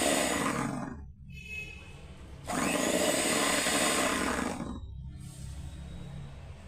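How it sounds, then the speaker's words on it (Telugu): A blender mixes a spinach omelette batter of five eggs in two loud, whirring bursts separated by short pauses, running close and steady with no talking. "బ్లెండర్తో బాగా కలుపుకొని మొత్తం కలపాలి"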